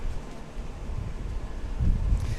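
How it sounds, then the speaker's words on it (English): Strong wind at a women's windsurfing wave contest, a low rumbling buffet of gusts across the microphone, steady with a louder surge near the end and no voices. "It's windy."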